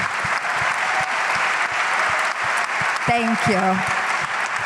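An audience at a university panel event applauds with steady, dense clapping from many people at moderate loudness. A voice briefly speaks over it near the end.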